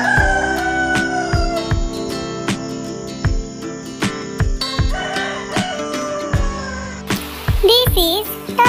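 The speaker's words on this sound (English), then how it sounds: "This is Rooster." A rooster crows near the end over a busy backdrop of percussive, rhythmic music, with the call rising sharply and loudly after a stretch of beats.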